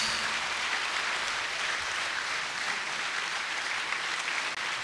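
Steady applause from a church congregation at a Mass for the feast of Saint Clare in Cazeau, dense and even clapping filling the whole space from start to finish.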